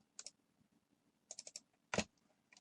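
Quiet, sharp plastic clicks from a computer mouse come in small clusters, a couple near the start, a quick run of three or four mid-way and one louder click after, with no speech.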